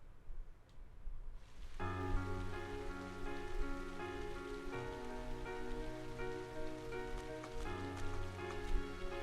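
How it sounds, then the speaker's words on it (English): Steady rain ambience from the Trails of Cold Steel video game, a continuous soft patter that swells in after a near-silent opening and holds under layered sustained music tones. "With summer well underway, a rainy spell seemed to hang over Trista."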